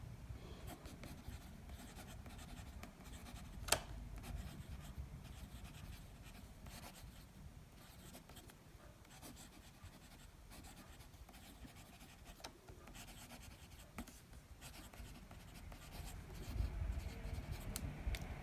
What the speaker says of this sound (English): Now let's just do a very sort of quick little writing sample.